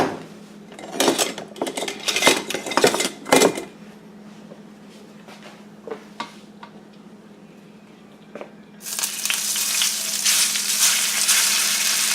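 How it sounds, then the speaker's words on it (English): Spaghetti drops into a preheated skillet on a stovetop. Pan and utensil clatter comes first, then a loud, steady sizzle of frying takes over near the end, with no talking. "So I preheated a skillet on the stove, and I'm going to go ahead and add my spaghetti."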